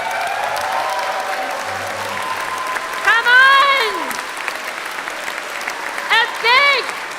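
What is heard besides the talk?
audience applause for GalaCon staff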